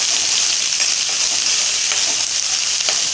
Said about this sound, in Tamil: கடுகு பருப்பு நல்லா பொரிஞ்சிருச்சு. கருவேப்பிலை, வெங்காயம்.